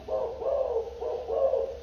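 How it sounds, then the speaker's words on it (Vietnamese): A spotted dove cooing nearby in a steady, repeated rhythm of soft, rounded coos, loud and clear over a faint low hum. "Gặp chim là gù suốt thôi."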